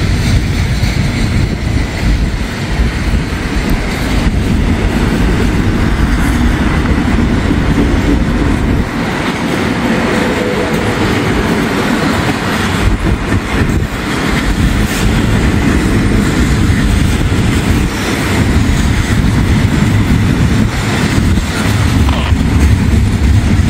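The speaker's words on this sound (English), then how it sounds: "So the end of the train is coming up." A long freight train rolls steadily past through farm country, its cars producing a continuous loud rumble with rhythmic wheel clatter and occasional squeals, close by and with no talking.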